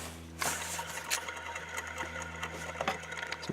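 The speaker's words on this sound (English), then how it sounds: "So I'll go ahead and spin it for you so you can hear it." A worn Corvette idler pulley spins freely by hand with the accessory and AC belts removed, giving a faint, steady whirring hum with light rattling and scattered clicks throughout.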